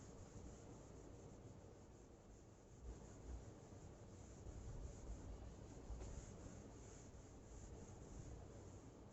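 Steady rubbing of a duster wiping writing off a classroom board during a Hindi-language accounting lecture, a continuous soft scrubbing texture with slight surges in intensity, fairly close and without talk.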